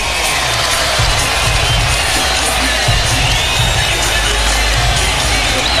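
A raucous arena crowd roars after an Orlando Magic home win over the Lakers in the NBA Finals, loud unbroken cheering and whooping filling the space, with deep rumbling surges throughout.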